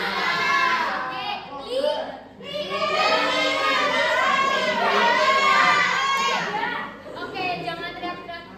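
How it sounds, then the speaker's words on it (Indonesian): First-grade schoolchildren shout and chatter together in a classroom, a loud, continuous babble of young voices with brief dips between bursts. "jangan teriak-teriak"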